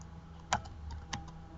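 Computer keyboard typing, a few sparse quiet key taps as an email address is entered, faint and close, with no voices.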